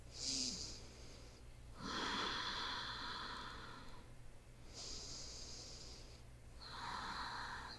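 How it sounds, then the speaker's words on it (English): Slow, deep breaths during a warrior yoga flow, with about three drawn-out inhale and exhale cycles, each a soft airy rush separated by brief pauses, heard close and quiet with no talking. "Close the eyes. Take three deep breaths."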